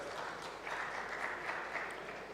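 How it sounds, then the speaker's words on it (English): An audience at a regional association presentation applauds, producing a soft, continuous wash of many hands clapping, fairly distant and even throughout. "I think he deserves a huge round of applause for his efforts."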